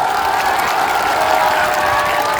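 A political rally crowd in Bihar gives dense, sustained applause with some cheering, loud and steady throughout.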